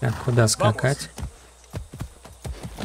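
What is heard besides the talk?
horse in the video game Far Cry 6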